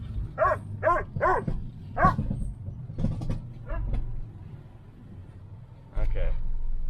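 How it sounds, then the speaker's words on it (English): Dogs bark in repeated sharp bursts, several barks in quick succession, then scattered ones later over a low idling engine rumble from a cheap old clunker car. "Over dogs barking."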